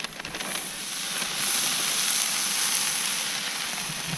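Onions sizzle steadily on a hot Blackstone griddle with butter, a close, even hiss that holds through with no break.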